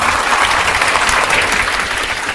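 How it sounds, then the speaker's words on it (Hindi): An audience at a Patna coaching class applauds a student's success with loud, dense, steady clapping that fills the whole stretch without talk. "एक बार इनकी सफलता के लिए जोर से ताली होना चाहिए"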